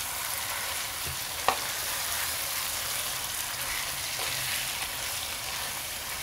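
Beef frying in a pan gives a steady, close hiss of sizzling with one sharp clack from a utensil against the pan early on and faint light scraping later.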